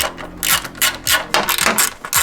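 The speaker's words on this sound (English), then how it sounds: "So there are 2 10mm again with the socket wrench." A socket wrench ratchets out 10mm bolts on a Tesla Model Y, loud close clicking in quick bursts with short gaps between strokes.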